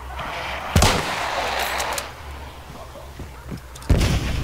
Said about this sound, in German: wo waren die Schüsse? Aus Nordosten.